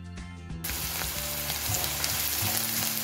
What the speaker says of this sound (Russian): Обжариваем грибы и лук.